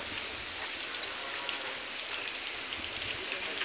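Rain falls as an even hiss over open water during rohu fishing in Chhattisgarh, steady and close, with no clear voices.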